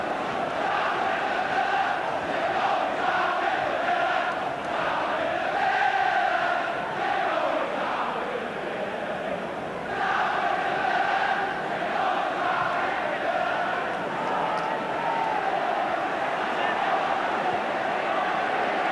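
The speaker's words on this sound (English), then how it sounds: "they're taunting Manchester United with shouts of going down" A packed 1986 Everton versus Manchester United football match crowd chants and jeers in a rhythmic, sustained roar, loud and continuous throughout, with surging swells of massed voices.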